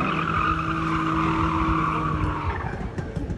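A modified BMW race car at a sprint race in Puławy holds a loud, steady engine note that eases toward the end into a series of sharp crackling exhaust pops.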